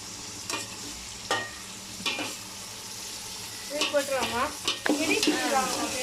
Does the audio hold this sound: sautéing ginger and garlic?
yes